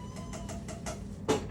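A cat meows softly several times in quick succession, then gives one slightly louder cry, indoors near a HeathKit Hero 1 robot, with no talking.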